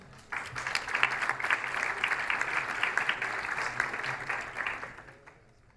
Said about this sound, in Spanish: Recibámoslo con un gran aplauso